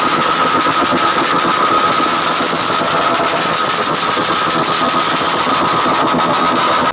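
A Honda CB150R motorcycle idles with its stock exhaust bored out, giving a loud, steady, buzzing engine note that runs unbroken and close up, with no talk over it.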